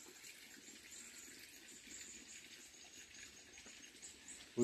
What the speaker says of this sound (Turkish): Çok gizli pınarlar var